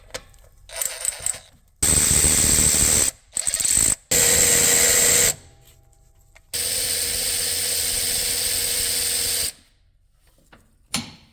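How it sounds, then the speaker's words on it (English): A ratchet with an 8mm socket backs out cover bolts on a Can-Am Maverick X3 XRC Turbo R, loud close bursts of rapid clicking separated by pauses, the longest run lasting about three seconds. "I'll just use an 8mm socket."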